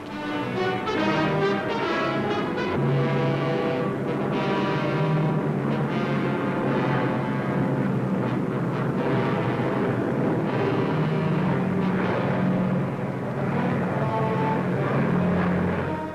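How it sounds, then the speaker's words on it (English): C-47 troop transport planes take off, loaded with paratroopers. A loud, steady piston-engine roar with a droning hum fills the whole stretch, heavy and continuous, with no talking over it. "Giant troop-carrying transports schedule their takeoffs down to the last second."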